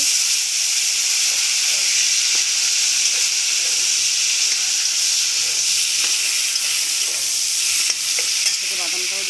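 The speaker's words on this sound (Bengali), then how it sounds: "টমেটোটাও ভেজে নিলাম একটু হালকাভাবে" Chopped tomato fries in hot oil with dried red chili, bay leaf and nigella seeds, a loud, close, unbroken sizzle and hiss with faint stirring scrapes.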